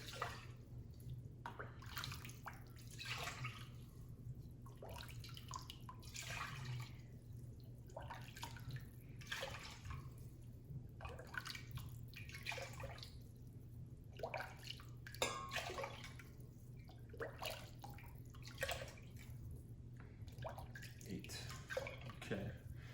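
Two quarts of liquid are poured into a sauce pot in a kitchen, producing a continuous splashing, trickling stream with uneven spatters over a low steady hum, fairly faint and close.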